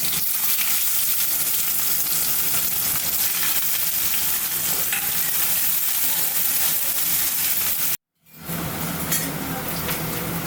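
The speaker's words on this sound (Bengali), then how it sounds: "পেঁয়াজটা তো ভাজা হয়ে গেছে লাল লাল" Onions frying in reused oil in a pan, a loud, dense crackling sizzle close by that runs continuously, cuts out briefly near the end, then resumes.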